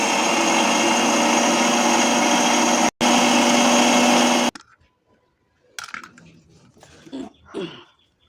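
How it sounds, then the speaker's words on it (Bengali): An electric blender whirs loudly and steadily as it purees tomatoes for homemade tomato sauce, cutting out briefly, restarting, then stopping; softer kitchen clatter and handling noises follow. "আমি ব্লেন্ড করে নিয়ে তারপরে আসতেছি"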